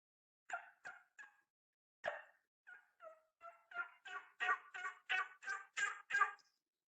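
A voice imitates a wild turkey with a mouth diaphragm call, giving scattered yelps that build into a rapid, louder series of clucks and gobble-like notes in silence.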